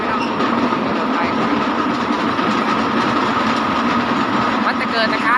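Train running on rails, with a steady rumbling roar and rhythmic clatter of wheels, heard from on board and continuing throughout at a constant, fairly loud level.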